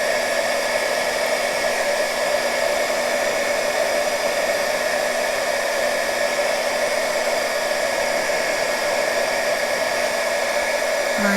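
A heat tool blows steadily to melt beeswax into a junk journal cover, giving a continuous, close, loud whooshing hum with a faint high whine and no speech.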